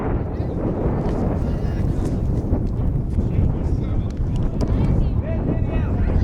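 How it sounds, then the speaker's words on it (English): Wind buffets the microphone at an outdoor high school track shot put event in North Andover in a constant rumbling roar, with faint voices in the distance beneath it. "Very windy day here."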